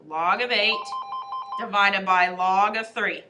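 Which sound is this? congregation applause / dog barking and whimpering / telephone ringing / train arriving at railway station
telephone ringing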